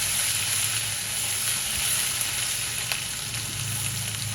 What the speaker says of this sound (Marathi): आलं, लसूण, मिरचीचा कच्चेपणा जाईपर्यंत आपल्याला परतून घ्यायचं आहे.